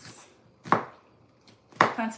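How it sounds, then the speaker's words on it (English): A knife chops Roma tomatoes and other ingredients for beef and cheese stuffed plantain balls, giving two sharp, close chops on a board about a second apart, with quieter kitchen clatter and faint noise between them. "Now that I've finished chopping up all my ingredients, I'm gonna clean up"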